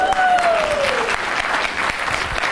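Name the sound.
audience applause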